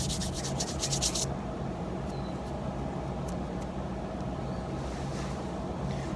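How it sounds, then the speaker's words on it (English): Steady rasping of sandpaper rubbed against the end of a wooden bushcraft spear, a continuous gritty scrubbing close up, with a brief brighter scratch at the start and no talk. "But sand the end down a little bit too."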